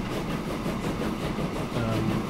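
Trains rumble along in the Transport Fever simulation game, a dense steady rolling noise with a low engine hum and faint rhythmic clatter, continuous and fairly loud, without talking.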